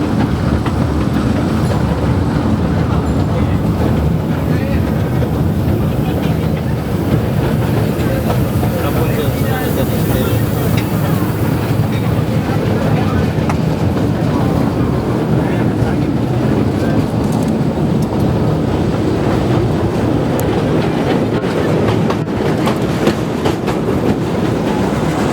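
A train rolling through Yanagibashi station in Japan, a steady loud rumble with faint clickety-clack and wind noise throughout, heard from on board under an occasional voice.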